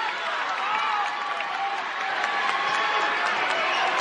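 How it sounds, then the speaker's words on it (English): Crowd at a women's college basketball game, Colorado versus Oklahoma State, applauding and cheering in a steady, continuous wash of sound heard from a distance under commentary. "Crowd trying to get their team going a little bit."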